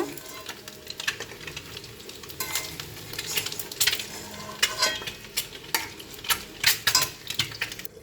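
Eggs fried in oil until reddish are lifted out of the pan one at a time, with steady sizzling and spattering under a run of sharp utensil scrapes and clinks that grow busier toward the end.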